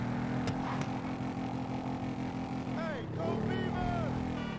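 A motorcycle engine drones steadily in a video game, holding a constant pitch before rising and falling as it revs around the midpoint, with a voice talking over the ride.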